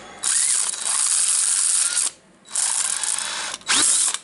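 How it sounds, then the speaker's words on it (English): A faulty DeWalt DCD776 18V drill runs with a rough, grinding whine from its worn motor and gear assembly. There are three loud close bursts, the first a long sustained run, separated by brief pauses. "the motor has some really bad sounds"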